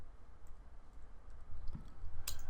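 Someone typing ipconfig on a computer keyboard, heard as a few sparse, faint key clicks over a low steady hum, with one sharper click near the end.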